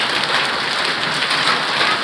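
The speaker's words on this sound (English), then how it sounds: "here's a little bit of that slight chance of rain today." Steady, loud rain falls continuously as a dense broadband hiss, close by and alone with no voices.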